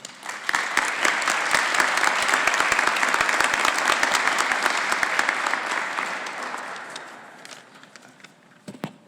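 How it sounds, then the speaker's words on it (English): An audience claps at a rail event about restoring Pennsylvania Railroad K4s steam locomotive #1361: a loud, dense round of applause that swells, holds for several seconds, then tapers off. "I hope you were applauding for Joe"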